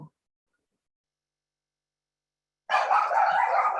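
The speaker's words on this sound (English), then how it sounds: "I apologize that my dog keeps barking" Dog barking at home during a virtual convention call, a burst of repeated close barks that starts abruptly after silence and keeps going.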